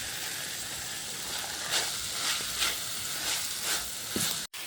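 Cabbage sizzles and hisses in a hot pan, with a few brief louder crackles and stirring noises rising over the steady frying.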